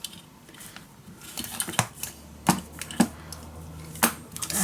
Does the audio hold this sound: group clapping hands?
no